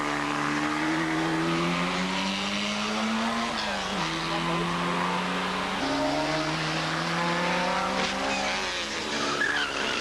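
Club racing saloons, a smoking Vauxhall Chevette and a Mini among them, scream past on a circuit with engines rising and falling in pitch through the gears while a commentator talks over them.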